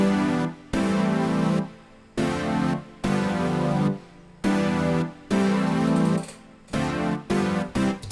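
Several layered synth pads, a thick pad and a classic 80s pad among them, play together as a dense sustained chord progression, each chord held about a second before a sharp change, with no talking.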